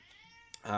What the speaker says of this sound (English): You can probably hear my cat screaming in the background.